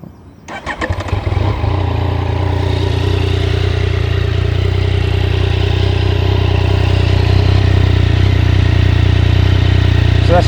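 A 2019 Yamaha MT-09 motorcycle cranks briefly and fires up, then settles into a steady, loud idle with a deep exhaust burble close by, running alone without talk for the rest of the clip.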